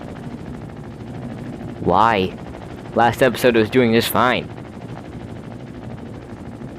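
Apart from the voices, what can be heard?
helicopter flying in the video game Trailmakers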